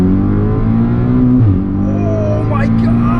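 A big-turbo Audi S3 running E85 pulls hard under acceleration, its loud engine note holding steady and rising, with turbo whoosh and a brief shift-like dip midway, heard from close inside the car.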